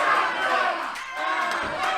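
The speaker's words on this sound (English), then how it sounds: "this crowd's going crazy right now" A wrestling crowd at a live show roars and cheers wildly in a sustained, dense wall of voices that dips briefly and then surges again.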